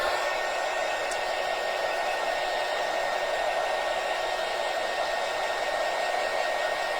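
Hair dryer blowing on a lavender tiered tray craft piece, a steady loud even whoosh of airflow that holds unchanged from start to finish with no voices over it.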